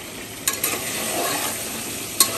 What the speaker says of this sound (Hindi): तो अदरक लहसुन को अच्छा भूनने के बाद आपको करना रहेगा